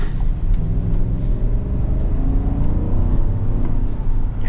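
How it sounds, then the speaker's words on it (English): Steady, loud engine roar from a 2025 Chevrolet Tahoe/Suburban 6.2L V8 under acceleration, a deep rumbling drone that holds throughout with a faint whir of road noise and no talking. "V8 power, V8 response, which is really nice."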